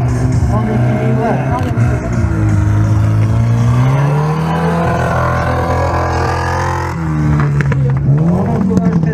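A stunt car driving balanced on two wheels at a Hell Drivers show in Le Guilvinec, its engine droning and revving loudly and steadily under an announcer's talk.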